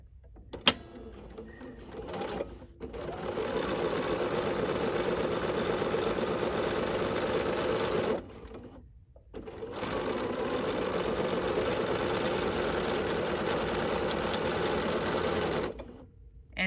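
A sewing machine stitches quilt pieces in long, steady runs, stopping briefly twice before resuming its even, moderately loud whir.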